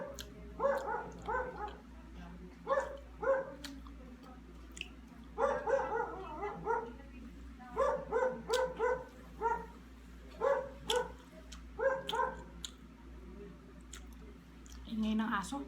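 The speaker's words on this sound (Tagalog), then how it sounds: "Ingay ng aso." Dogs bark repeatedly in a busy, uneven pattern of short clustered yaps, fairly distant and moderate, recurring through the whole stretch while people talk nearby during a meal.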